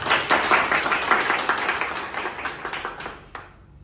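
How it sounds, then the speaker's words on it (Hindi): A room full of people claps loudly to welcome Dr. Aparna at an eye hospital event, with a dense burst of applause that gradually thins out and fades toward the end. "डॉक्टर अपर्णा के स्वागत के लिए जोरदार तालियां।"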